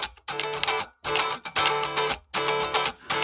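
A guitar plays a funk-style 9 chord in three choppy, bright strummed bursts, each cut off sharply into near silence before the next. The playing is close and clear, with no voices.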